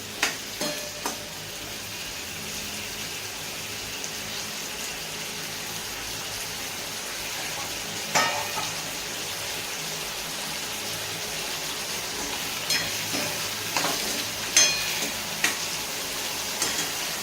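Roasted peanuts and ground green chili stirred into hot oil in a pan, giving a steady soft sizzle with occasional scraping clicks of the spoon, close and fairly quiet.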